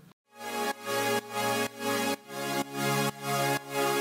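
A sustained Spire synthesizer pad chord pulses in a steady repeating rhythm, full and bright, with each swell cutting off briefly before the next. No voices.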